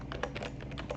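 Quick, close clicks of a computer keyboard tapping out a short word while coding an Arduino sketch, a rapid uneven burst of keystrokes over a low steady hum.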